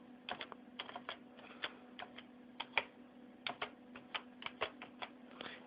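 Quiet, close keystrokes tap out a short entry on a computer keyboard, a few dozen crisp clicks in uneven bursts over a faint steady electrical hum.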